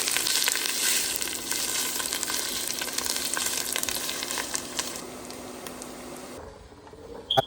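Two medium onions, finely chopped, fry in oil in a pan, giving a steady close sizzle with bright crackle that fades and cuts off near the end, heard alone.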